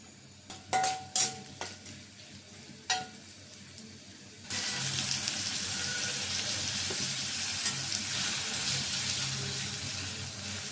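Chopped onion dropped into hot oil in a pan, a few clinks and taps first, then a sudden steady loud sizzle that continues unbroken to the end.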